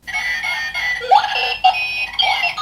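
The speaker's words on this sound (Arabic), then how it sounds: "بس حلو المنبه مالته رهيب شباب" A novelty gadget alarm clock rings with a shrill, wavering electronic tone that rises in bursts, close and loud, repeating in several pulses with brief gaps between them.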